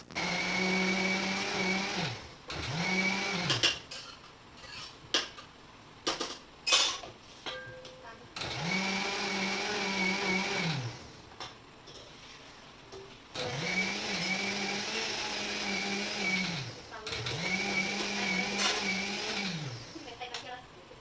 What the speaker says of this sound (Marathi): थोडंसं मिक्सरला फिरवून घेण्यासाठी घेतले